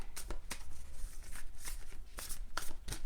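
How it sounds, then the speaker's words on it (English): Cards being shuffled in quick bursts, crisp riffling snaps repeating several times close by, with no talking. "Let's do another shuffle."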